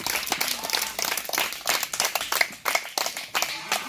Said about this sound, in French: On acclame encore pour papa Jésus.